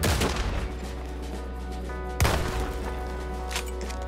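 Gunfire in a Red Dead Redemption 2 gunfight, with two loud booming shots several seconds apart echoing over a constant low game rumble, no voices.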